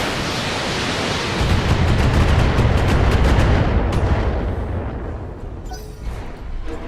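Mech weapons firing in Battletech, a loud sustained roaring barrage that swells, then fades into a softer rumble with a few scattered impacts at the end.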